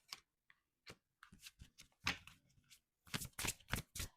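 Mudra Oracle cards being shuffled by hand during a card reading, a series of quick riffling and slapping bursts, close and fairly quiet, with no talking.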